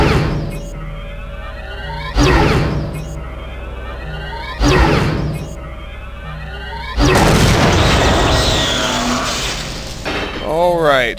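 Security turrets in System Shock 2 being destroyed: three loud booming blasts spaced about two seconds apart, followed by a longer crackling burst of wreckage and a whooshing tail, with no talk.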